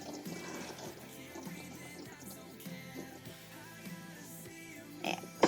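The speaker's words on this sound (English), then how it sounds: "I'm just going to drain these really quickly" Cooked ramen noodles are drained, a rushing, gurgling pour of water into a sink that runs through the clip at moderate level, with clattering and a louder knock at the end.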